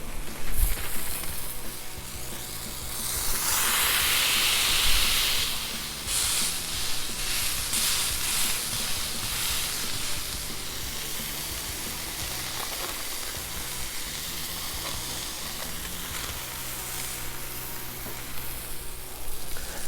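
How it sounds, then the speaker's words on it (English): A burger sizzles in chorizo grease on a Blackstone griddle, a steady crackling hiss that swells louder early on, then settles into a continuous close frying sputter. "Got a nice grease from that chorizo. Ooh, listen to that sizzle."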